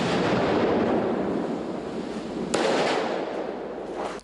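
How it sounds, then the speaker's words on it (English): Controlled detonation of hand grenades near a school, done by court order: a loud, sustained blast roar that rolls on for seconds, with a second sharp report partway through and a rumbling tail. "steps were taken to detonate the grenades based on an order by the Mathugama Magistrates Court"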